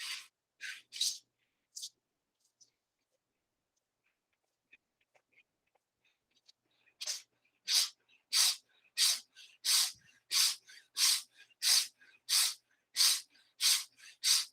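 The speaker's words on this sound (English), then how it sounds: "you start breathing quick and short breath from the chest" During a meditation breathing exercise, a person takes quick, short breaths from the chest: a few scattered breaths, a quiet pause, then a steady run of about a dozen sharp, evenly spaced breaths heard close and alone.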